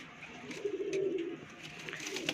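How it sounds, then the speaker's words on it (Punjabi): Domestic flying pigeons give a soft, low cooing call close by, a single throaty phrase in a quiet setting. "ਇਹ ਦੇਖੋ ਪੱਕੀਆਂ ਅੱਖਾਂ ਦੇ ਕਬੂਤਰ"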